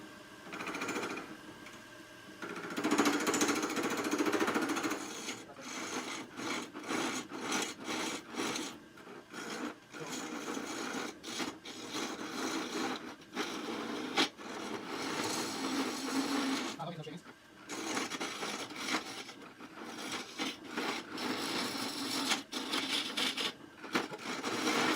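A gouge cuts into a burl spinning on a wood lathe, producing a loud continuous rasping and scraping that swells and breaks with brief pauses, with a voice speaking over it.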